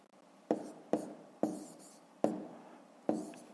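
Pen or pencil writing numbers by hand on paper during a fifth-grade maths subtraction exercise: five sharp strokes, each a quick scratch that fades, evenly spaced and close, with no talk.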